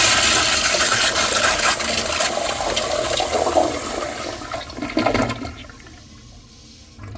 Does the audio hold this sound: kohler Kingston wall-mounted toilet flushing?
yes